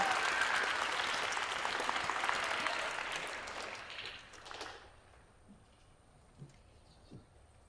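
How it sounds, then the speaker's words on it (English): Audience applause at a school spelling bee, loud and dense at first, then tapering off and fading into near silence with a few stray claps at the end. "Let's give them a big round of applause"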